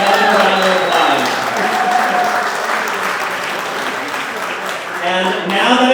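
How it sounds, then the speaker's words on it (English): Audience at Ross Fogelquist's 88th birthday celebration applauds his knighthood by the King of Sweden, a steady, full round of clapping that swells at the start and end and holds throughout. "So, yes, that's another round of applause."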